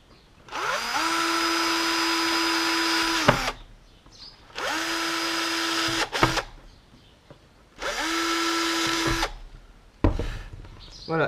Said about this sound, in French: on va pouvoir percer des trous à ces endroits-là.